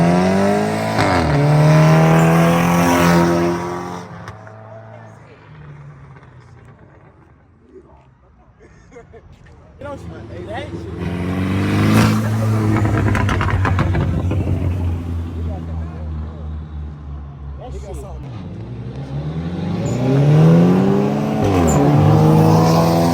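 Street race cars, an Audi and a Subaru, at a car meet roar loudly as engines rev and accelerate, with repeated rising whines passing by and fading, while people talk and shout over the noise.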